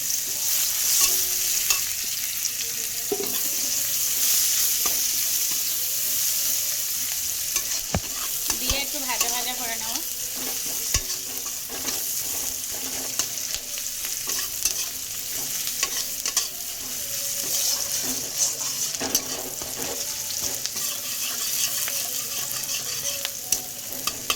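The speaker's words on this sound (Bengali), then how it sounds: "পেঁয়াজ আর রসুনটা আমার ভাজা ভাজা হয়ে গেছে" Chopped onion and garlic fry in a pan for a taro and leta fish dish, a steady close sizzle with frequent spoon scrapes and stirring clatter throughout.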